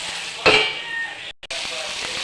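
Okra and tomato simmer under a lid in a pan, a steady close hiss and sizzle with a brief clatter near the start and a short dip partway through.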